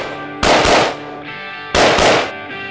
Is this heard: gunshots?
yes